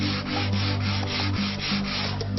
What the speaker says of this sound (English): you might wish to go straight ahead and do it by hand with sandpaper